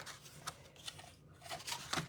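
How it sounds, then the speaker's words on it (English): A pair of scissors cuts out a new piece: soft, scattered snips and clicks spaced unevenly over a couple of seconds, close but quiet. "I am going to cut a new one."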